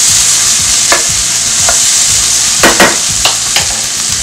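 Onions sautéing in a pan for a chile relleno casserole, with a steady loud sizzle throughout and several short scraping stirs of a utensil against the pan.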